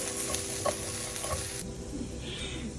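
Garlic and thyme cook in a shrimp étouffée mixture, a quiet steady sizzle with light stirring scrapes that thins out and softens partway through.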